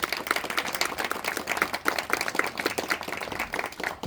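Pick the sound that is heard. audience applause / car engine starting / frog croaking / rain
audience applause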